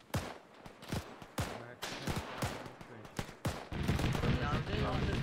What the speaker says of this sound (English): Start firing on the fucking trenches.